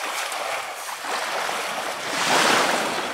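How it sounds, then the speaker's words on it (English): Steady gusts of wind rush and roar over the open shore at Seahurst Beach, mixed with surf, swelling louder toward the end. "now it feels like the wind's picking up"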